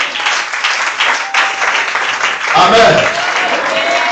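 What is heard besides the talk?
congregation applauding to acclaim the Lord at a church service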